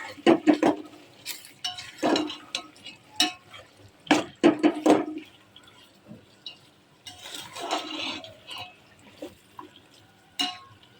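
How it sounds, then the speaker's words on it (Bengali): A spoon scrapes and clinks against a cooking pot as chicken biryani ingredients, salt included, are mixed together. The irregular metallic knocks come in clusters with softer, wet stirring between them. "তো সব কিছু একসাথে দিয়ে তারপর আমি মিক্স করে নিচ্ছি এখানে।"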